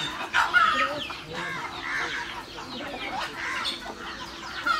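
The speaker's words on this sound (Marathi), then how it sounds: "आता बघा मी कोंबडी कशी पकडतो." Chickens at Saguna Baug farm cluck in a busy, overlapping run of calls, fairly close, with faint voices in the background.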